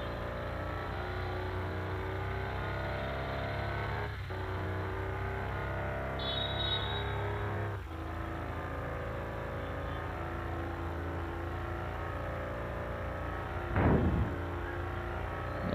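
A Mitsubishi Pajero mod in Bus Simulator Indonesia accelerates toward top speed, its engine a steady, loud, continuous drone that holds throughout, with a short burst of noise near the end.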